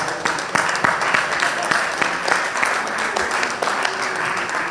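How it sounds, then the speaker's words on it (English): A conference audience at a summit plenary session claps steadily and loudly, a dense, sustained round of applause filling the room. "So give them all a great hand of applause."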